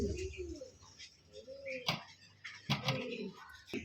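Beauty Homer pigeons give soft, low cooing calls in short bursts, faint and close, while someone talks over them.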